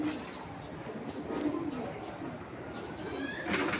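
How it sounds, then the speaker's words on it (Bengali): An old-breed Bahama baga pigeon coos softly and repeatedly in a quiet room, low rounded calls rising and falling over a faint background hum. "এইগুলা একদম ওল্ড ব্রিডের একটা কবুতর"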